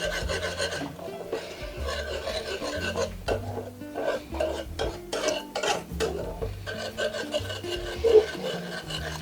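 A spoon scrapes and stirs plant-based cheese paste in a pan, with repeated rasping, rubbing strokes at close range, irregular in rhythm and moderately quiet.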